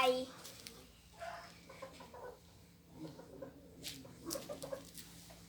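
Chickens cluck in short, scattered bursts close by, with a person's voice and other farmyard noise mixed in.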